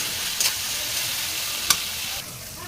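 Spices sizzle steadily in a hot pan while Bengali dried lotta fish is being cooked, with a few sharp clinks of a spoon scraping the pan and no voices.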